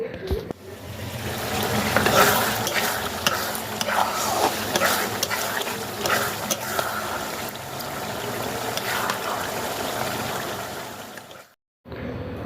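Onion and garlic frying in a pan alongside vegetables, a steady dense sizzle with occasional stirring scrapes, close and fairly loud, stopping abruptly near the end.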